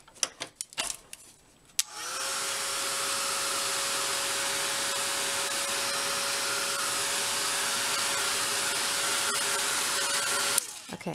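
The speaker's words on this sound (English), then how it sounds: "I'm going to go ahead and put my heat gun on it just for a couple seconds." A heat gun roars on steadily for about nine seconds, blowing hot air over powdered glitter pigment on paper, a loud close whooshing drone that starts and stops abruptly after a few light handling clicks.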